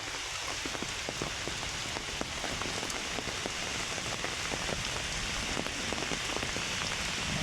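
Steady rain pattering on a surface in a wetland in Bangladesh, dense and even, with scattered sharper drops and no voices.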